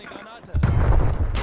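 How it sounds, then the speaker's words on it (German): Grenade going off in the Call of Duty Cold War video game, a sudden close booming blast with a rumbling tail after a brief quieter stretch, with a voice talking over the game sounds. "Werfe eine Granate."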